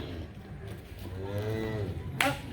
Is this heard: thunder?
no